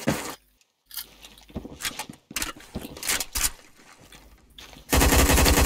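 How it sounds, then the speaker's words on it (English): Video game gunshots crack sharply in a 3v3 match, first as scattered individual reports amid game noise and then as a loud, dense, sustained burst of fire at the end. "That's snipers."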